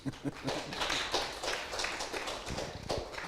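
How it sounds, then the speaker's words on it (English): Applause for a speaker at a spiritual talk on Lord Narasimha, a soft patter of clapping hands from a small audience, faint and uneven with scattered louder claps. "So, one more applause for him"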